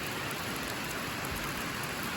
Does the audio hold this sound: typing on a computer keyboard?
no